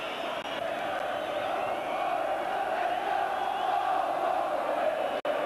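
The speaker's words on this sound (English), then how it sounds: "Now the Ayresome Park crowd in good voice" A football crowd at Ayresome Park roars in a sustained, distant-sounding wash of massed voices, steady and broad throughout with no single voice standing out.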